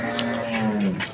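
A water buffalo at a roadside livestock market near Faizabad lets out a short, moderately loud low call lasting about a second, close by and without speech.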